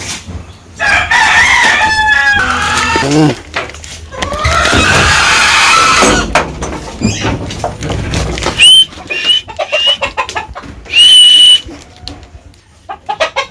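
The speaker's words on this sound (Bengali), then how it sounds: "মুরগির খাবার দিয়ে দিলাম, তো মুরগির খাবার দিয়ে দিলাম, মুরগি খাইতেছে এখন" Village chickens clucking and a rooster crowing loudly nearby while being fed, with repeated bursts of calls and quieter pecking between, no speech.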